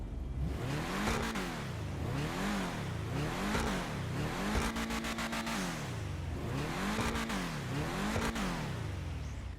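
A car engine in the video game GTA Online, a Übermacht Rhinehart sports sedan, revs up and down repeatedly in a steady, rhythmic pattern, loud and close, with a synthetic game-like tone and no talking.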